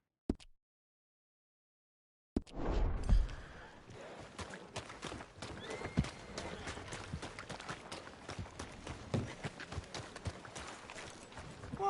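Horse hooves clip-clopping in Red Dead Redemption 2, a steady run of hoofbeats under a busy outdoor game ambience, beginning after a short silence.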